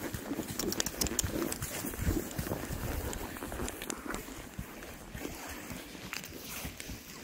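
A horse walks on a slippery trail, with soft, irregular hoof falls and shuffling steps under heavy wind noise on the microphone.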